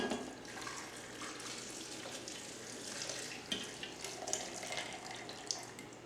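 Warm water poured from a container into a blender holding ancho chili peppers, a steady splashing trickle with a few small clinks, fairly quiet and close, with no talking.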